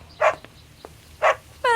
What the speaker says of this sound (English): I got your dog tied up outside